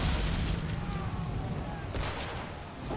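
Naval cannons fire at ships in the video game Assassin's Creed III, a dense, continuous barrage of booming blasts and rumbling explosions that fills the whole stretch at a steady, heavy loudness.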